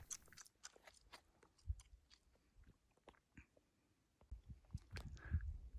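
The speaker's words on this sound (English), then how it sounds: "Don't mind me chewing on my gum like a horse chewing on cud." Quiet, close-up chewing of gum with soft wet smacks and crunchy bites, irregular in rhythm, growing slightly louder toward the end.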